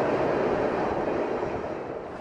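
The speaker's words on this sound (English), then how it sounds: "Apparently there's like 30 different trains that come through each day." A train rumbling past close by in a small Wisconsin town, a loud steady roar of wheels and cars that fades slightly toward the end, with no voices.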